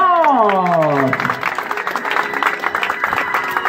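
Applause breaks out at a quinceañera as a voice trails off, a mid-level patter of many hands clapping that continues steadily to the end.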